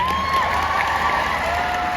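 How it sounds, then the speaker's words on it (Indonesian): A lively student crowd at a campus event at IPB claps for Niko, a continuous wash of applause and crowd noise that fills the whole moment, loud and even, with a thin tone running underneath. "Tepuk tangan dong buat Niko."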